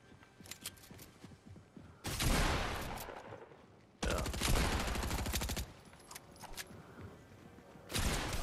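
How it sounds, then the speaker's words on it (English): Fortnite gunfire in bursts: a couple of loud volleys of rapid shots up close, separated by quieter stretches with fainter distant pops, occasional voices underneath. "somebody shooting from up here"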